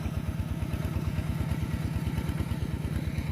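Farm tractor engine chugging steadily while plowing a field, a loud close low throb with a fast even rhythm and a clattery mechanical edge, continuous throughout with no speech.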